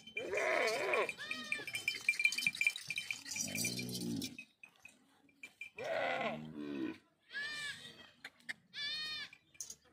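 A herd of Beetal goats in Rahim Yar Khan bleats in several loud, wavering calls, near and overlapping, with pauses between them and a faint rattle like a bell.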